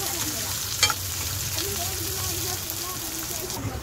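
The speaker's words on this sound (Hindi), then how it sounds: "अब इसमें हम डालेंगे कटी हुई शिमला मिर्च, कटा हुआ कांदा, इसे थोड़ा फ्राई कर लेंगे।" Chopped capsicum and onion fry in a hot pan, a continuous close sizzle with stirring scrapes and a brief clatter near the start.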